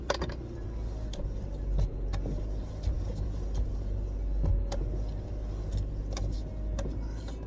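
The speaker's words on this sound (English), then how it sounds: "Alright, we got our idle down where it's supposed to be." A 1998 Honda Odyssey with a swapped JDM F23A engine idles with a low, steady rumble, while sharp metallic clicks and taps from work around the car break in at irregular intervals.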